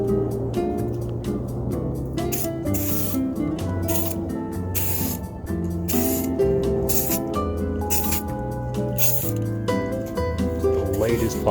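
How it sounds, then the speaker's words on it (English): Short hissing bursts of color shift spray paint being applied to a 1970 Cadillac headlight, repeated in an irregular rhythm close by, with someone talking over and between the sprays. "I'm going to try to get a light coat of this color shift onto it"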